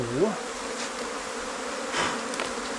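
Cavity-nesting bees buzz steadily during wild honey harvesting, a close, continuous swarm drone with a few louder insects passing near the microphone.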